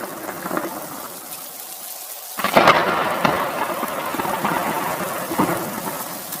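Steady rain pours down, joined partway through by a low rumble of thunder, with the downpour continuing loud and close afterward.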